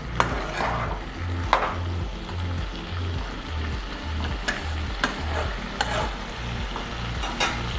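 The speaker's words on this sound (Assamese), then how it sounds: "মছলাখিনি ভজা হৈ লওক।" Spices fry in hot oil in a pan while being stirred for an Assamese home recipe, a loud continuous sizzle broken by regular scrapes and clicks of the spoon against the pan.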